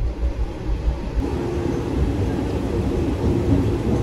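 Haldibari Intercity Express running between Kolkata and Haldibari, heard from inside an AC chair car: a steady, loud low rumble of wheels and carriage noise throughout, with no talking.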